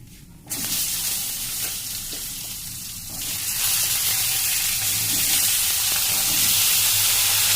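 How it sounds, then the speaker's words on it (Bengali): Vegetables added to hot oil with black cumin for a Bengali katla fish curry, a loud, steady sizzle that bursts in suddenly and stays strong and hissing close by. "তারপরে আমি আস্তে আস্তে সব আনাজগুলো দিয়ে দিলাম।"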